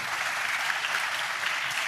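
Church congregation clapping hands together during a sermon, a dense continuous patter of many hands, loud and close, with no talk over it.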